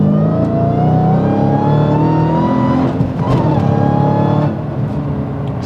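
A Dodge Hellcat accelerating hard, its engine note climbing steadily, dropping sharply at a gear shift, then rising again before easing off; loud and close, with no talking.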